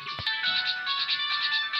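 A mobile phone ringtone rings loud and close, a steady electronic melody that pulses briefly through its whole length.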